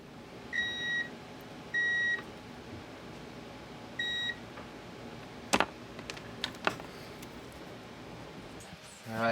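Short electronic beeps from a continuity tester during electrical wiring checks, three brief tones spaced apart over a quiet room, followed by a few faint clicks and rustles.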